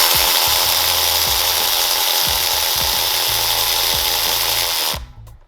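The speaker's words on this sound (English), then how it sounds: "I'm gonna use the electric ratchet so I can speed up the process of" An electric ratchet whirs loudly and continuously while tightening bolts on a Jaguar XJ6 power steering rack, with rhythmic clicking knocks underneath, stopping abruptly near the end.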